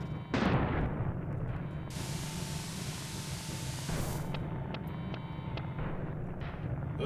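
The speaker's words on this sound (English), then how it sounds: "The barrels explode!" Propane barrels blowing up in the SNES firefighting game Ignition Factor, a loud burst of explosive noise near the start followed by a sustained roaring wash of blast and fire noise with a second surge partway through.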